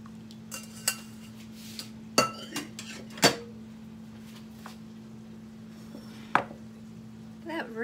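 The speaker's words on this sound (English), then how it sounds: "This is your broth that you made. I'm going to strain the vegetables out." Scattered metallic clinks and clatters of a pot and utensils sound against a quiet kitchen hum as cooked vegetables are strained out of a homemade broth for a keto cottage pie.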